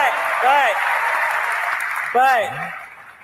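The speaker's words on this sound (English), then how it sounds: "Give him a round of applause." Audience applause at a live talk show taping, a broad steady wash of clapping with short bursts of voices or cheers rising over it near the start and again toward the end.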